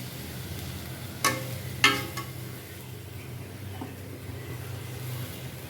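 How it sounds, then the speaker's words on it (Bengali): A ginger, garlic, cumin and turmeric spice paste with salt and oil fries in a pan with a soft, continuous sizzle, broken by two sharp clatters of stirring. "আদা রসুন হলুদ লবণ তেল সব কিছু একসাথে দিয়ে মশলাটা কষিয়ে নিলাম"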